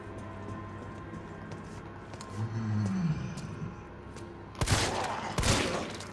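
Two loud, heavy shotgun blasts in the Resident Evil 3 game boom out close together near the end, following a stretch of low rumbling game ambience and a brief growling tone.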